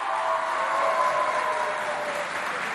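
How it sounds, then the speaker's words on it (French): Students of a school crowd at an inter-college event clap loudly together, a dense steady wash of applause that holds at full strength throughout and fades only slightly near the end. "Si les élèves du CEG Félix Eboué sont là, ils applaudissent bien fort pour eux."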